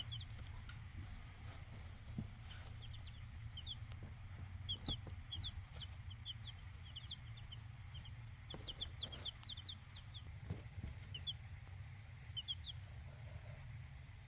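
Young chicks in a brooder box, pecking at lettuce, give soft repeated high cheeps and clucks in short scattered bursts over a steady low hum of background noise.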